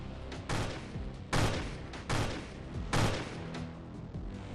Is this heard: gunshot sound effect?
yes